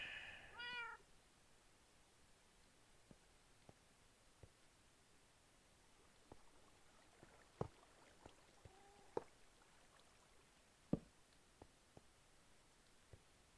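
A cat in Minecraft lets out a short meow at the start, faint against a quiet hiss, followed by sparse soft clicks and taps scattered through the rest.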